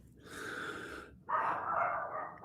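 Several dogs at home bark and snort in a sudden commotion, two loud close bursts split by a brief pause.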